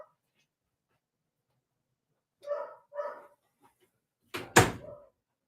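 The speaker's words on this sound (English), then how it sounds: "The whole neighborhood can hear him when he barks" A dog indoors gives two sharp, close barks a moment apart, then a louder burst of barking near a door after a short pause.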